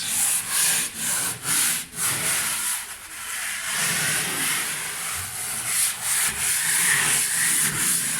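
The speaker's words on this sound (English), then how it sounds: "just a real light sanding" Quick, light hand sanding across a wooden surface during a home restoration in Japan, with steady rapid rasping strokes that carry on evenly throughout, close and fairly loud.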